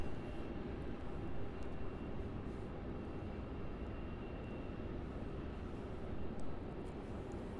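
Out at Melbourne Airport, a departing airliner makes a distant, steady low roar, faint and rumbling under wind, with no talking.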